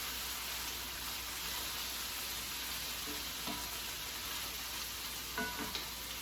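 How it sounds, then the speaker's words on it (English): Burgers fry in a pan with a steady, faint sizzle that holds throughout, broken by a few soft stirring or utensil clicks near the end. "I don't want the burgers to get soggy, so I will let them fry now."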